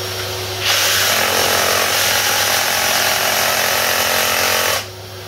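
A Ryobi 18V brushless reciprocating saw cuts through a screw, a loud, steady, rapid buzzing rasp of blade on metal lasting about four seconds before it cuts off, with a lower motor hum before and after and no talking.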